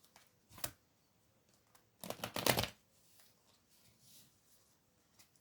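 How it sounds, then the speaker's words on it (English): Tarot cards being pulled from a deck, giving a short papery riffle, a pause, then a longer burst of card shuffling and slapping at close range, with faint rustles afterward and no talking. "I'm going to just pull 3 cards from here."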